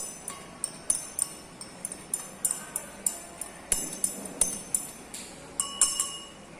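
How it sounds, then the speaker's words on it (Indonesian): A spoon stirs red dye into water inside a glass for a homemade lava lamp, producing a steady series of bright clinks against the glass, close and fairly regular, roughly two or three taps per second. "Kemudian kita aduk, kita campur."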